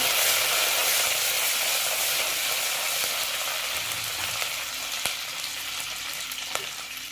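Spices splutter and fizz in hot oil for an eggplant curry, a loud, continuous close-up sizzle with occasional sharp pops and faint stirring.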